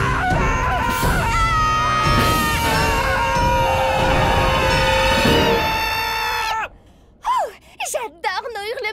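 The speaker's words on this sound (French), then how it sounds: "J'adore nos hurlements du matin!" Cartoon characters let out loud, shrill morning screams and wails together, a sustained chorus that breaks off suddenly, followed by a few short gasping vocal bursts.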